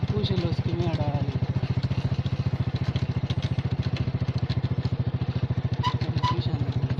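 Motorcycle engine running steadily and close, a loud even rhythmic throb throughout with some clatter, while someone talks over it.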